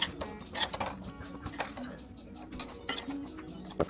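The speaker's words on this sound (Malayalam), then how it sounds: "നന്നായിട്ടൊന്ന് ഇളക്കി ഇളക്കി ഇളക്കി നല്ല പോലെ മിക്സാക്കി എടുക്കണം" Soya chunks masala stirred in a pan, with a spoon scraping and clinking against the metal in irregular bursts, close and fairly loud, with no talk over it.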